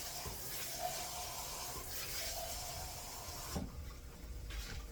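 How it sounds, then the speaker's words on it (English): Water pours into a pan of seasoned roux while cooking a lemon chicken and broccoli rice dish, a steady splashing hiss that runs continuously before easing off near the end. "I'm gonna add a little bit of water to it."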